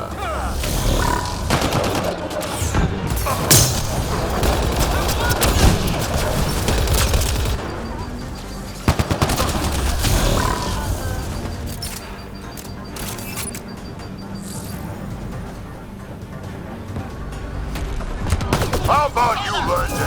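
Combat in the video game Mass Effect: Andromeda, with bursts of gunfire and sharp shots scattered through busy, loud action, mixed with grunts and spoken lines from characters.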